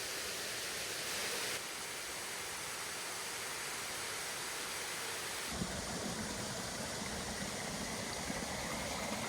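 Erikli Waterfall in Turkey pours with a steady, dense broadband roar of rushing water that fills the whole clip, holding constant with a slight shift in tone partway through and no voices.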